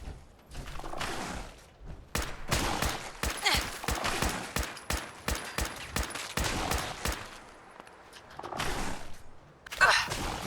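Rapid bursts of automatic gunfire in the video game Fallout 4 crack repeatedly in quick succession, loud and close, with brief pauses between volleys and a final sharp shot.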